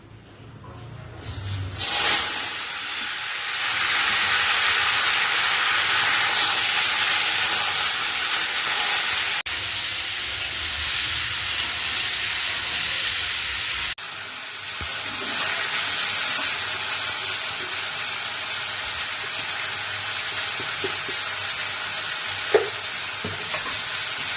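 Pumpkin, potato, radish and taro fry together in a pan with bay leaf, giving a steady loud sizzle and hiss. The frying starts after a short quiet opening and carries on with brief dips and occasional stirring clatter.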